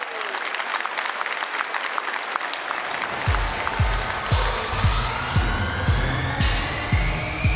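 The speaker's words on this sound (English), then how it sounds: "Please give a massive, massive round of applause for Matt, founder and CEO of Sociability." An audience claps loudly at the Slush 2022 startup conference Founder Stage, sustained applause building and filling the hall, with scattered low thumps in the second half.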